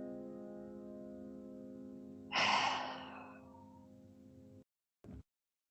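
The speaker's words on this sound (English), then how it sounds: "Take 3 big exhales." A single deep exhale during a calm yoga session, a breathy rush of air rising and fading over about a second, close and fairly soft, over a low, steady musical drone.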